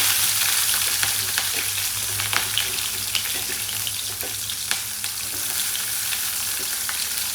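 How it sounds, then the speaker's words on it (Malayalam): Mustard seeds crackle and splutter in hot oil, a steady sizzle dotted with sharp pops and occasional stirring, close and fairly loud throughout with no voices. "കടുക് പൊട്ടുന്നുണ്ട്. അതങ്ങ് പൊട്ടി വരുമ്പോഴത്തേക്കും ഉള്ളി ഇട്ട് കൊടുക്കും."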